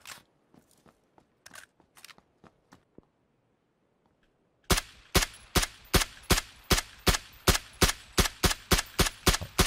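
Sniper rifle gunshots in a video game: a scatter of faint, sparse cracks, then a steady run of about fifteen loud, sharp shots at an even rapid rhythm, close and dominant.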